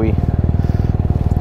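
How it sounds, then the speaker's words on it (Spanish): Motorcycle with an aftermarket exhaust on a city avenue, a steady loud throbbing engine pulse with rapid regular firing beats throughout, close by. "Ese es el escape que tenía yo en la otra moto."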